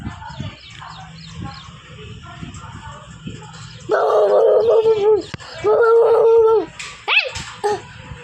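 Dogs barking outdoors, at first faint and distant under background chatter, then two loud, close bursts of repeated barking with a whimpering yelp near the end.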